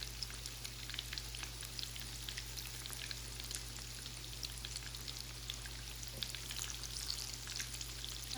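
Taro balls deep-frying in hot oil over high flame, a steady dense sizzle with fine crackling pops running without a break, moderately close and fairly quiet, with no talking.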